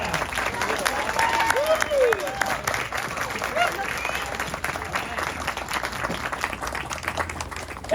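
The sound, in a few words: applause for Maureen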